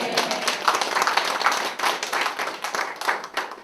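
A church congregation claps vigorously, a dense run of hand claps at a brisk, fairly regular pace, close and loud, with no talking over it.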